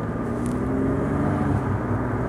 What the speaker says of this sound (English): let's take this Saab 900 V6 convertible for a spin.